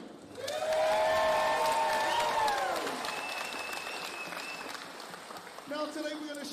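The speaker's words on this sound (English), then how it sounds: "Ladies and gentlemen, round of applause all around all our people back at home." Audience applause and cheering at a Pacific arts festival entertainment stage, swelling loudly then tapering, with whoops and voices rising over the crowd and a brief tonal sound near the end.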